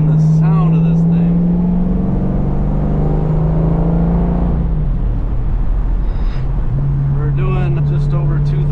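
A deep, steady 1970 Plymouth Cuda 426 Hemi V8 drone cruising just over 2,000 RPM at about 55 mph holds at an even pitch, dips briefly, then settles back, with faint rattles and road noise around it.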